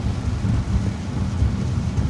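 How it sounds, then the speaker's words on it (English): Rain and wind roar in a heavy storm, with low rumbling gusts that may be thunder forming a dense, continuous wash of noise with no speech. "Sorry about the rain, folks."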